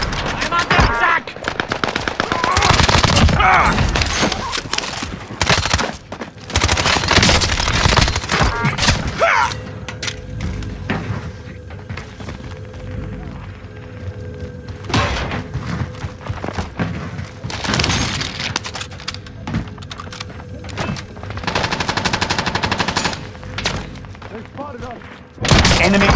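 MP5 submachine-gun fire in a Warzone match on Rebirth Island: repeated loud rapid bursts with thuds and booms between them, and game voice callouts in the background.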